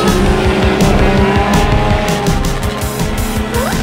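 Cartoon race cars rev and speed off at the start of a race that includes a blue tanker truck, engines roaring loud and close with tire squeals and skids throughout.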